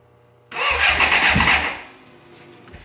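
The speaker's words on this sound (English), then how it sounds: "we'll just give it a quick crank here and see what happens" A fire-damaged BMW K100 motorcycle engine cranks over in a garage, a sudden loud burst of starter whirring and engine churning that lasts about a second and a half, then drops to a lower, fading rumble.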